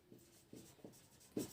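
Chalk or marker strokes on a board while chemistry nomenclature is written, four short scratchy taps spaced unevenly, faint and close with no talk.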